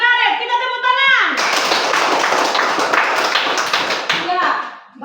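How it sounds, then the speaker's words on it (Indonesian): A room full of children bursts into brisk clapping that swells and holds for a few seconds, following a sung or chanted phrase. "Kita tepuk tangan"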